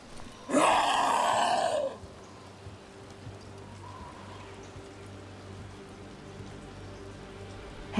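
Rain falls steadily in Dragon Age: The Veilguard, a soft, even hiss of drops that continues throughout, interrupted near the start by a loud, strained vocal groan lasting about a second.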